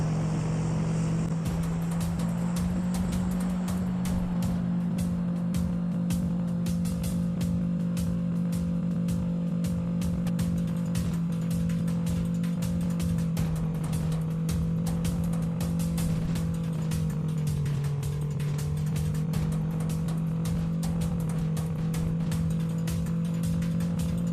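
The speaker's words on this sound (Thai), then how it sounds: "เฮ้ยเขาขับรถออกมานะครับ" Car engine in PUBG Mobile, a steady low droning hum with a slight dip in pitch partway through, running continuously and fairly loud for the whole stretch with no voices over it.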